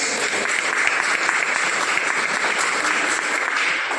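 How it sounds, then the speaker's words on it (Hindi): Loud, steady audience applause at a wellness company product presentation, a dense unbroken wash of clapping sustained throughout without pause or talk. "मैं चाहती हूँ इसके लिए जोरदार ताली"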